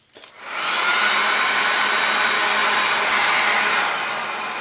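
A hair dryer switches on with a brief click and then blows steadily and loudly, close up, drying a photo transfer on a painted or varnished wood surface.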